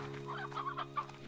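Chickens cluck in the Slime Rancher 2 video game: soft, overlapping clucks over a steady hum of in-game background tones, continuous through the short stretch.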